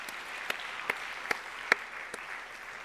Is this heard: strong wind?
no